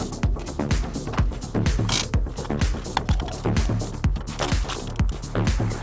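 Ratcheting crank of the winch on a Real Ghostbusters Ecto-Glow Ecto-1 toy car, a rapid run of close, loud plastic clicks in a steady rhythm with no voices.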